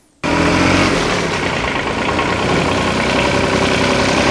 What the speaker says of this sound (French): les hyperacousiques, on va entendre la voiture de cette manière.